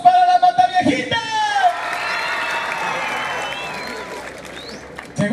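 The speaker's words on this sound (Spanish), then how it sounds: "¡Aplausos para la Mataviejita!" Audience at a live show claps and cheers for a contestant called Mataviejita, a loud, sustained burst of applause with shouted voices and whoops riding over it, fading near the end.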